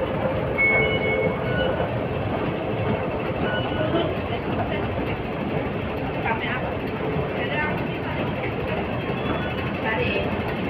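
Ambient noise at a railway terminal in Indonesia, with a steady rumble of trains and station machinery filling the space, faint squeals and clatter over it, and people talking nearby.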